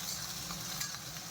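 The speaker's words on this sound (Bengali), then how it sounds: "পেঁয়াজটা লাল লাল করে ভেজে নিই" Onions fry in hot oil in a home kitchen, a soft, steady sizzle with a faint stirring scrape, quiet and close, with no talking.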